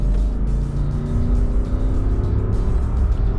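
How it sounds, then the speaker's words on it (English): A lifted Lexus GX460 on all-terrain tires roars steadily as it accelerates hard to 60, a loud, continuous low rumble with rising revs and no voices. "So another thing I wanted to test right now is also the acceleration."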